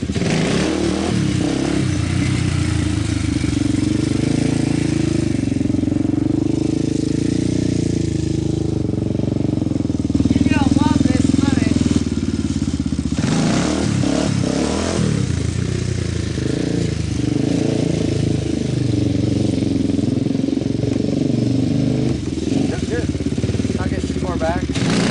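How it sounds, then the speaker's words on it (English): A four-wheeler ATV engine drones steadily and revs through a beginner's wheelie, its rumble rising and falling over about twenty-five seconds while voices talk over the noise. "That is his first wheelie he's ever actually rode on that four-wheeler."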